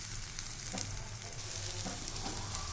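An omelette fries in a pan with a soft, even sizzle, broken by a couple of light scraping touches as it is turned, fairly quiet and close with no voices.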